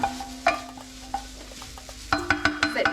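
Alaskan king crab fried rice stirred in a hot pan, a spatula scraping and clinking against the metal in a run of uneven strokes over a steady close sizzle, with the scraping turning faster and denser toward the end.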